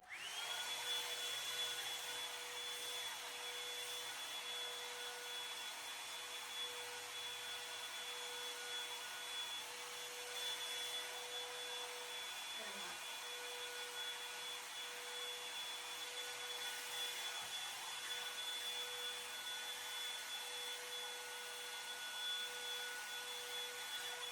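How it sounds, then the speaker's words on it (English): A Revlon blowout hair dryer brush runs on high through thick hair, making a steady, fairly faint whirring blow with a constant whine that holds unbroken for the whole stretch, with no talk. "I'm just gonna get it like mostly dry, and this will just smooth it out a little bit"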